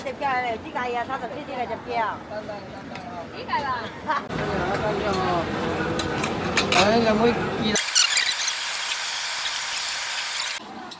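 A chef works a heavy iron wok, and metal clatters and scrapes in a busy kitchen. A loud hissing sizzle builds partway through, and people talk over the clanging.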